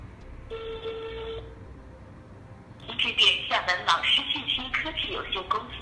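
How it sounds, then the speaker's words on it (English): A mobile phone dials a PBX trunk number on a Yeastar S-series phone system, giving a steady tone, then a ringing and call-connect sequence that overlaps with busy, voice-like sound. "Now use a mobile phone to dial the trunk's number."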